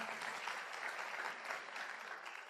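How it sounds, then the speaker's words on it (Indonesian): Steady applause from a seminar audience fills the room, a dense, even wash of many hands clapping at moderate distance, with no talking over it. "Tepuk tangan buat Anda semua."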